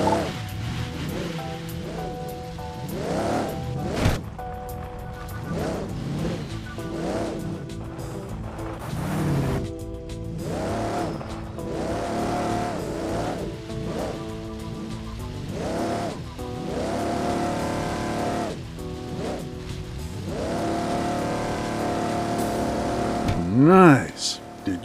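Off-road vehicle driven over rough terrain in the Overpass 2 racing game, its engine droning steadily with repeated rising and falling revs throughout, a sharper surge near the end, and a voice talking over it at times.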